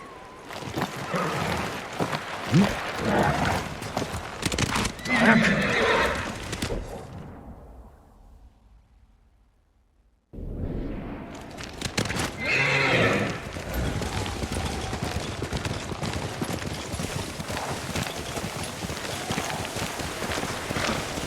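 Galloping hooves clatter steadily with a horse whinnying, set against a busy soundtrack in the video game Ghost of Tsushima; the noise drops out briefly, then the hoofbeats resume.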